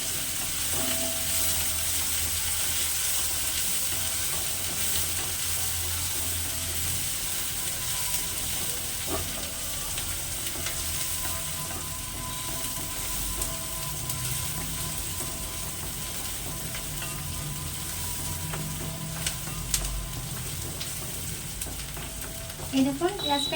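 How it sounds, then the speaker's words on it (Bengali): Onions sizzle and fry in a pan for chicken biryani, a steady crackling hiss with occasional scraping stirs and clinks, close and continuous throughout. "এখন পেঁয়াজটা একটু ভাজা ভাজা করে নেব।"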